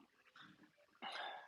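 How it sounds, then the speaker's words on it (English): A dog vocalizing indoors, a short low growl or grumble followed by a louder, sharper bark-like burst toward the end, heard close by with no talking. "Sorry, dog. Let me let the dog out."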